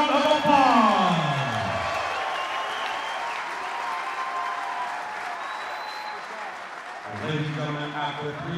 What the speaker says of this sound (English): let's give both fighters another big round of applause